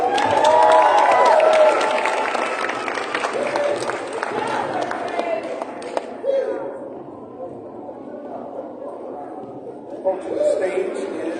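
Clapping and cheering from a crowd at an elementary school family night, applauding a first grade class; lively at first, then thinning into scattered claps and chatter.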